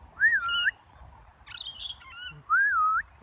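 A lory parrot gives loud, close squawking whistles, two drawn-out warbling calls with harsher chatter between them.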